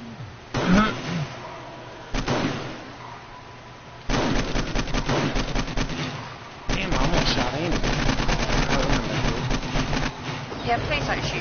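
Gunfire in 7 Days to Die comes in loud, dense bursts and rapid volleys with short pauses between, mixed with chatter from the players talking.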